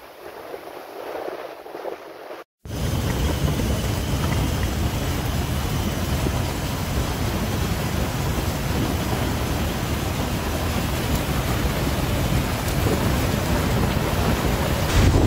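Loud, steady roar of sea waves and strong wind buffeting a shore, continuous broadband rush after a brief quieter start and a sharp momentary dropout.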